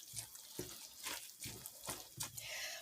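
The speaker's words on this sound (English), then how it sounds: "I'm also going to rinse, add water to this to get the remaining sauce out of the can." A kitchen tap runs faintly as tomato sauce is rinsed from an emptied can. The water gushes and splashes in irregular bursts, soft and close.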